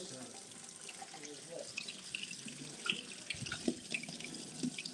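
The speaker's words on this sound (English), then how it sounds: "Sorry, you gotta rinse your ginger." Tap water runs into a kitchen sink as fresh ginger root is rinsed under it, a soft steady splash with light clatter and drips, fairly quiet throughout.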